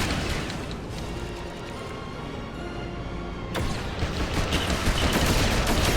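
Sustained gunfire rattles through a Lego Batman video game level, dense rapid shots and mechanical clatter running continuously, growing louder and harsher in the last couple of seconds, with no talking.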